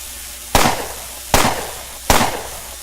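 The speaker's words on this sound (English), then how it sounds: "So he's gonna shoot at me now." Three sharp, loud gunshots from the turn-based game Underrail, evenly spaced about a second apart, each with a short decaying tail and no talk.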